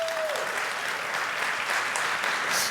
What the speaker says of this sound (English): give a big round of applause for Max.